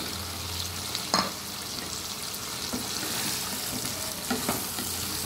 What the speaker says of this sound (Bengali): এটা 2 মিনিট মতো ভেজে আমি আলু আর ফুলগুলো দিয়ে দেব।